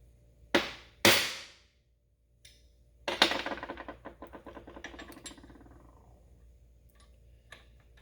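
A chisel is struck with a hammer against the crankshaft of a Zenoah RC helicopter engine: two sharp metallic blows, a short pause, then a ringing strike that decays slowly, with one faint tap near the end.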